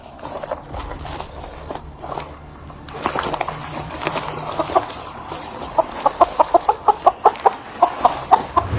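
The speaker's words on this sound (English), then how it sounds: "there's a loose chicken in this front yard" A loose chicken clucks in a front yard, starting irregular and then settling into a steady run of sharp, evenly spaced clucks that grow louder near the end, with faint background noise.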